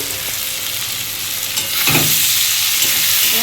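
Vegetables fry in a pan for a hilsa fish-head chachchori, a steady close sizzle with a soft stir and scrape near the middle, no talk.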